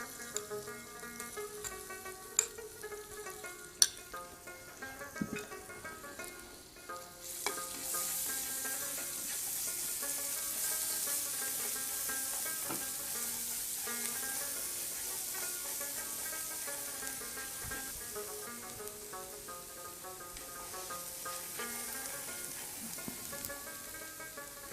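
Garlic fries in a little oil for garlic rice, a hissing sizzle that starts abruptly partway through and continues steadily under background music.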